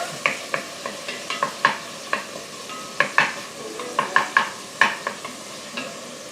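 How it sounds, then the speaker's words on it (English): Onion fries in a pan while a utensil stirs it in quick, repeated scraping strokes, each one sharp and close over a soft, continuous sizzle. "just going to stir this for 2 or 3 minutes and let the onion soften a bit"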